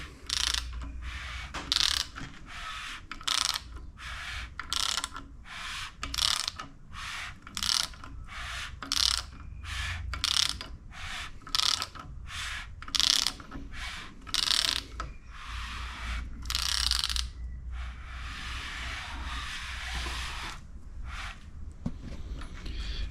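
The bottom end of a turbo Ecotec 4.2 V6 stroker with all six pistons fitted is turned over by hand, giving a steady series of close ratcheting clicks with short pauses between them.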